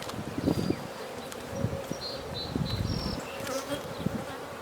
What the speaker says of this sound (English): I've got a lot of bees in here.